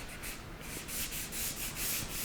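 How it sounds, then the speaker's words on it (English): A guitar body's sanding sealer finish rubbed with 600 grit sandpaper, a close, soft, even scratching in rapid back-and-forth strokes, heard alone. "And you can hear as I sand, you can hear how quickly it goes smooth."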